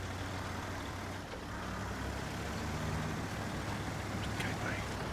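A Kenworth C500 logging truck in the game Snowrunner drives over rough terrain, its engine giving a steady, low, dense rumble with no pauses throughout.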